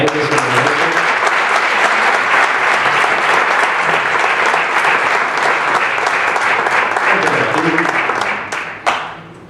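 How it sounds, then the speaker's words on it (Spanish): A conference audience gives a speaker a sustained round of dense, even applause that holds strong for about eight seconds and then tapers off, with a few final claps at the end. "Pido un fuerte aplauso para él, que se lo merece."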